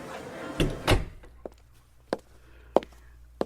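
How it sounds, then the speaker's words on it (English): A door closes with a pair of close, heavy thuds in a radio-drama scene, followed by a few faint, spaced knocks or footsteps in a quiet room. "Come on in and close the door."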